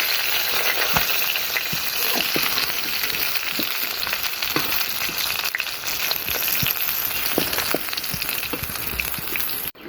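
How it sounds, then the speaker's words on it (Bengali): Crabs fry in a pan of hot oil, giving a dense, continuous sizzle with bursts of spitting and crackling and occasional sharp pops, close and loud, with no talking. "কাঁকড়াগুলোকে ভেজে নিয়েছি, এবারে তুলে নিচ্ছি।"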